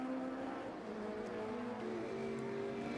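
Citroen Saxo hot hatch race cars at the Silverstone International circuit drone steadily side by side, a sustained mid-distance engine tone holding throughout with no voices.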